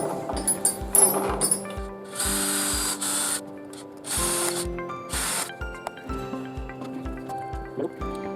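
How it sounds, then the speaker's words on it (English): A power drill with a small bit bores holes in a hand-made holder for electronics work. It runs in repeated whirring bursts with short pauses between them, over a steady run of rhythmic ticking. "we just need to drill the holes. We're going to start off with a nice little small bit"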